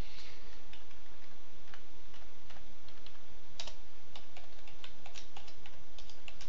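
Fingers tap on a computer keyboard in quick irregular bursts of clicks, close and fairly quiet against a soft background hiss.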